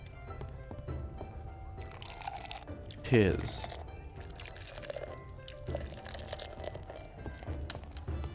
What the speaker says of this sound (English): Pouring sound is making you thirsty.